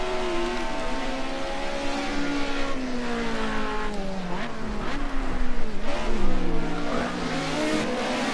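Cosworth and Audi Group A touring race cars roar around the Zolder circuit, engines revving and shifting with rising and falling pitch, several cars overlapping loudly and continuously.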